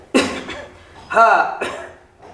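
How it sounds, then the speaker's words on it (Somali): A man coughs in a Somali comedy sketch about coronavirus, with a sharp, close cough at the start followed by rough, voiced throat sounds. "qufac yar ma isku haysa"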